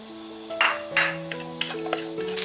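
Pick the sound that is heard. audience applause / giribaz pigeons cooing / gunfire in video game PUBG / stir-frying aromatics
stir-frying aromatics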